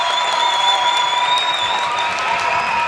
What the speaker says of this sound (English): Kaukauna fans making noise